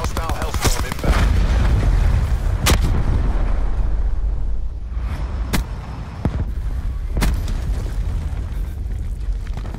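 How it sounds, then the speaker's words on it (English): An enemy Hellstorm strike in Black Ops 4 lands as a series of heavy booms and sharp blasts over several seconds, mixed with rumbling battlefield noise and gunfire. "Hostile hellstorm inbound."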